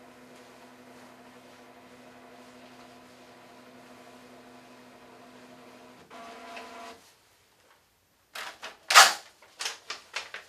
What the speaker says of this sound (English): Once the EKG machine has analyzed the rhythm of the heart, you can then print out the visual image of it.